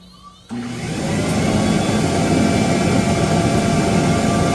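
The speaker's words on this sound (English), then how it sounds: "you can hear the spindle and the water pump and everything has cut on" A PwnCNC spindle and water pump on a Onefinity CNC router switch on abruptly, then settle into a loud, steady whirring roar.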